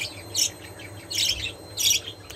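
Pet budgies, canaries and finches chirp in three bright, close bursts of tweeting over a low steady hum.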